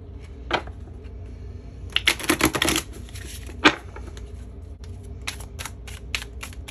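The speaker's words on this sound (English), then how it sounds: "I'm gonna go ahead and pull some cards for Yeosang first" Tarot cards are shuffled and pulled, making crisp riffling bursts and scattered sharp flicks and taps, close and clear with no talking.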